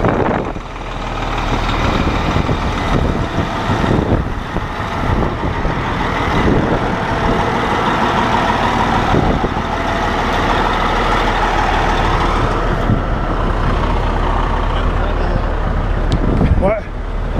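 Heavy trucks dump their loads on a very windy day, engines rumbling loudly and continuously as they idle and reverse, with people talking over the noise.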